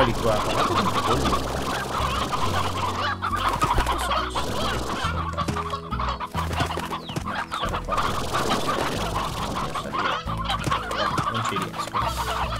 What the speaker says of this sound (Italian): Eccoli qua, guardate quanti polli.